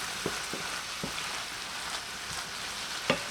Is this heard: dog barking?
no